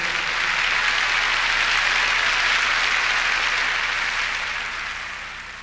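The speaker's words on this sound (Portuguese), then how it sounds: "podem dar palmas ao Senhor" A church congregation applauds for the Lord in a steady, dense wash of clapping that swells and holds for several seconds, then slowly tapers off near the end.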